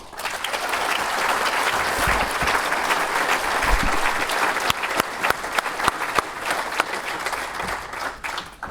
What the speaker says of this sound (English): Give a round of applause for our Girls Elite Player of the Year, Maddie Savory